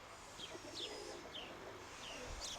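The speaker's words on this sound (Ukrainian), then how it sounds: "Так, сюди є ось ця голубочка" Pigeons coo in repeated soft, rising-and-falling calls at a pigeon loft outdoors, several distinct coos spaced through a steady low background hiss.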